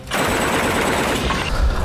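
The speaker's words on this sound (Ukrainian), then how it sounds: "За мить пролунали постріли гучніші за автоматну чергу. Пішла важка зброя." Heavy weapons fire in a battle in Donbas, a dense, loud roar of sustained shots that sounds heavier than automatic rifle bursts and continues without pause.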